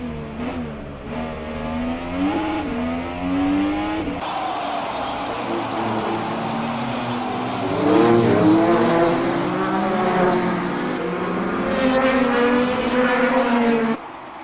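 Race cars at speed in an iRacing sim race, engines roaring and rising and falling in pitch as they rev through gear changes, loud and continuous, with cars passing close and overlapping.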